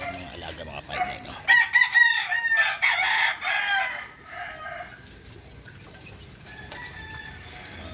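A young gamefowl rooster crows close by, one strained, broken call that rises and then fades, followed by soft clucking and quiet yard ambience.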